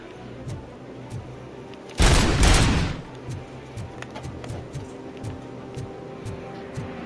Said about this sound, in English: shooting the OCP, like, magazine as Robocop